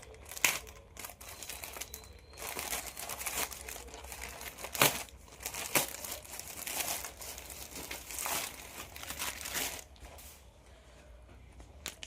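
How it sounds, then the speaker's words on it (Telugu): Plastic packaging from a budget online-shop product crinkles and rustles steadily as it is unboxed close by, with sharper crackles and occasional tearing sounds throughout and no speech. "మన ఫోర్త్ ఐటమ్ అయితే అన్బాక్స్ చేసి చూద్దామండి"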